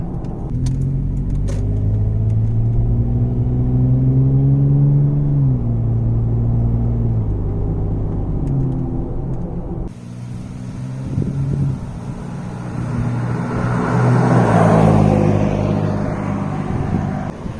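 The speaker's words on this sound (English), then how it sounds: "what a 5th gen 4Runner with the V6 will sound like with a Super 40" A fifth-generation Toyota 4Runner V6 SUV with a Flowmaster Super 40 exhaust hums at steady cruise, a deep continuous drone with a short gear-shift dip partway through and rising rumble near the end.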